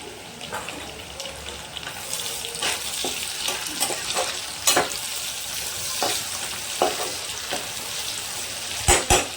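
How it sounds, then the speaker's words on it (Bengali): Spices and chopped tomato frying in a pan for a moong dal and papaya curry, a continuous close sizzle broken by a series of sharp stirring clacks and scrapes. "একটু ভাজা ভাজা হতে থাক। এর মধ্যে দিয়ে দেবো আমি কুচিয়ে রাখা টমেটো।"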